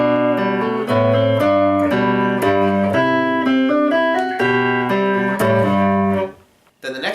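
Piano plays Minuet in G with both hands together, a melody over a moving bass line in even beats, close and clear, then fading out near the end.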